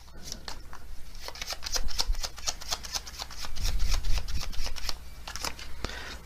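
Oracle cards being shuffled by hand close up, a rapid run of crisp flicks and riffles with soft rustling in between.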